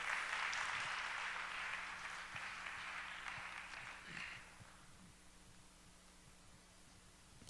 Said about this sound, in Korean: 자, 우리 인사할 때 박수해 주세요.